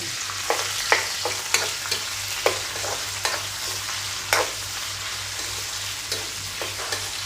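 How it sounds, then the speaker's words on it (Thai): Tofu frying in hot oil in a pan, a steady close sizzle with repeated scraping stirs from a utensil at an irregular pace, no voices. "ตอนนี้กระทะเดือดแล้วก็จะเป็นเต้าหู เตาหูเนาะอ่า คือการทอดเต้าหู้"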